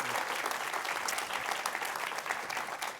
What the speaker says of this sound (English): let's give our panelists a round of applause for their time